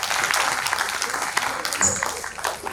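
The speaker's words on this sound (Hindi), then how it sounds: "एक ताली पहले आप अपने लोग के लिए बजाइए।" Audience applause at a Hindi poetry gathering, a kavi sammelan, fills the hall as a continuous, fairly loud patter of clapping with a few voices mixed in, steady across the whole stretch.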